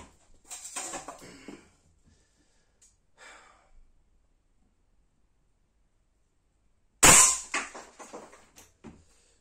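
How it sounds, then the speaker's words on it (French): An air rifle fires a flat 4.5 mm pellet, one sharp close crack followed by a brief rattling tail, with quiet handling sounds and breathing before it and near-silence between. "Je vais faire vite fait avec un plomb plat."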